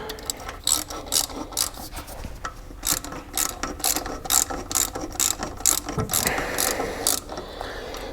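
A ratchet wrench works cam housing bolts on a Porsche 944 engine, giving rapid bursts of clicking pawl ticks in short strokes, close and loud, with brief pauses between pulls.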